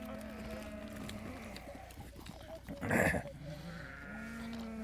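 One sheep gives a single loud, close bleat amid quieter farmyard background noise, with faint bleats from other sheep around it.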